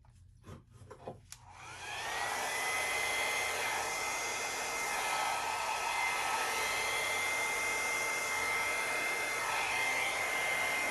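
A hair dryer-style blower roars on after a few brief knocks and holds a steady, loud, continuous whoosh while drying an acrylic chaos pour of layered paint colors.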